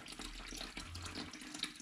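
Water trickles steadily out of a central heating radiator into a small container, a quiet continuous dribble with no voices.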